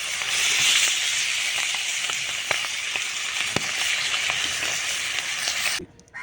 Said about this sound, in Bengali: আমার মাছের মাথা ভাজা আমার হয়ে গেছে